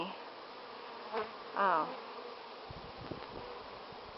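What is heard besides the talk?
honeybees buzzing at a Langstroth hive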